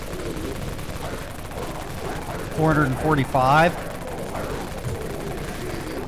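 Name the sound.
Wraith cannon machine gun firing in video game Dead Frontier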